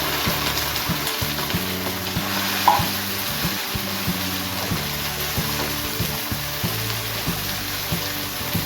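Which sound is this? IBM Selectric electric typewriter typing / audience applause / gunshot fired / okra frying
okra frying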